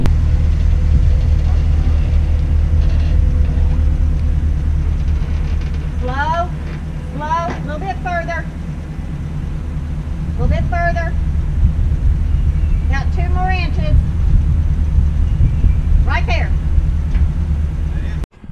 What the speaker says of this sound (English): I pulled the van forward and she told me when to stop